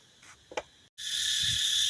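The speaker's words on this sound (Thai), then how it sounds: "โอ้เสียงจักจั่นหลายพี่น้อง" Many cicadas singing together in rural northeastern Thailand, a loud, steady, buzzing drone that starts abruptly after a brief silence and holds on without a break.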